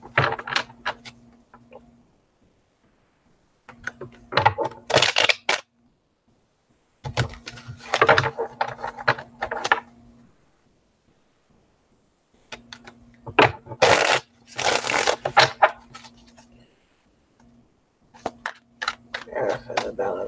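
Tarot cards being shuffled in several separate bursts of quick riffling and sliding, close by, with pauses and some talking between bursts.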